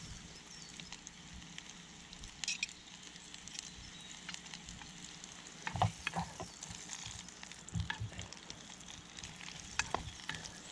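Food frying in oil in a small pan on a Solo Stove Lite, a faint, steady sizzle broken by occasional scraping and stirring clinks, close by and quiet.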